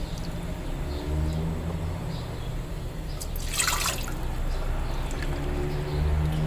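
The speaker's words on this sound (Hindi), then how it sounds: "अब इसमें पानी डालेंगे।" Water is poured into a pan on a stove to make sugar syrup for raw mango sharbat, a short splashing burst in the middle over steady low kitchen hum.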